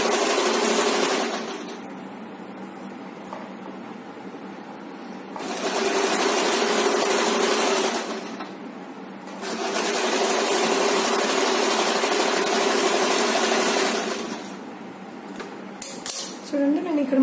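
An electric sewing machine stitches a chudidar gathering pant in three long, steady whirring runs, close and loud, separated by quieter pauses filled with faint handling sounds.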